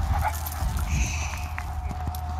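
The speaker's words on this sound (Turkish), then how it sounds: "Orada daha çok köpek var." Street dogs bark and yip among a pack, with Amstaff and Rottweiler nearby, the calls close and overlapping in a steady noisy outdoor din while people talk.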